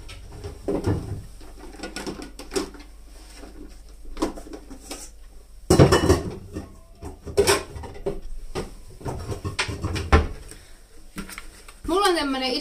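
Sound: large 8-litre bowl being dug out among dishes

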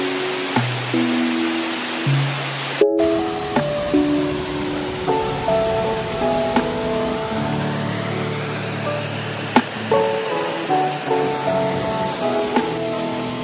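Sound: Lynn Falls waterfall near Dalry, Ayrshire, Scotland

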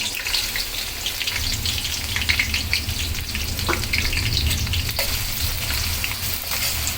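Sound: chopped onion frying in pan

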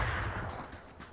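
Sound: gunfire in PUBG video game

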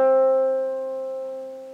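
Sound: harp string playing middle C

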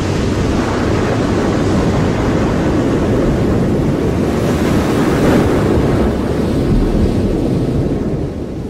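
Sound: mountainside landslide plunging into the sea, waves

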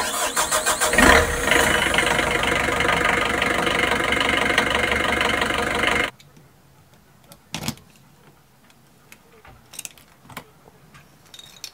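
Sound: narrowboat diesel engine starting up and running

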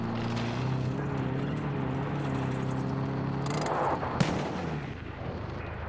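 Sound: gunfire in the video game Far Cry New Dawn

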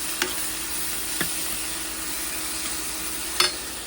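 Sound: spice masala frying in a pan

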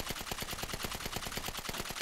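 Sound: gunfire in video game GTA V

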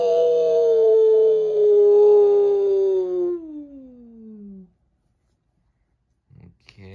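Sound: voice imitating a howl

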